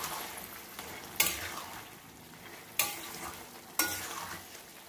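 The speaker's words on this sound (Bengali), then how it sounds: "এরপর আমি বড়াগুলো এতে অ্যাড করে দিলাম।" Lentil fritters stirred into a simmering squash curry: a soft bubbling sizzle broken by three sharp scraping spoon strokes against the pot, close and distinct.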